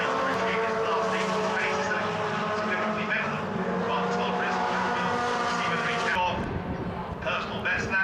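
Renault Clio Cup race cars racing at Brands Hatch in 2012, engines roaring loudly and shifting pitch as they pass, under continuous excited race commentary.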